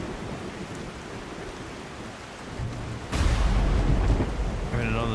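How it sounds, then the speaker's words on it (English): Steady rain hisses throughout a thunderstorm in the video game The Last Caretaker, with a low rumble building and a sharp, loud thunder crack breaking in just past the midpoint. "We're in another damn thunderstorm by the looks of it."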